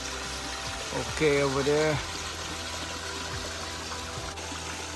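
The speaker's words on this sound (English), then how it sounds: "My waterfall is still holding up" A backyard DIY koi pond waterfall, fed by a three-barrel filter system, trickles and splashes steadily, with a voice speaking briefly near the start.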